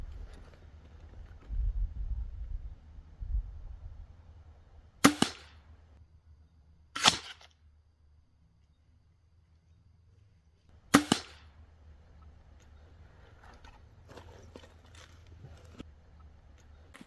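Three separate crossbow bolts strike a ballistic head in sharp, loud impacts spaced several seconds apart. Quiet stretches and faint low rumble sit between them.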